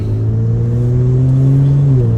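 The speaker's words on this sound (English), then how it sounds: "We'll just listen to the car going through the gears, the exhaust note." A Kia Stinger with an MBRP 2.5-inch cat-back dual rear exit exhaust accelerates steadily on a highway, its deep exhaust drone climbing in pitch before dropping back as it shifts gear near the end, loud and continuous.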